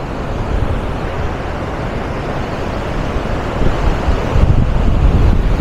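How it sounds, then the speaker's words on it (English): Water gushes through the spillway of the Polavaram dam, a loud, dense, continuous roar that grows slightly stronger toward the end, with wind buffeting the microphone and no talk. "And look how the water is gushing through the spillway."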